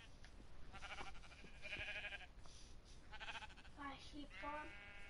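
Sheep bleat in the Minecraft video game, several short wavering calls spread across the clip at moderate distance, mixed with talk and game noise in the background.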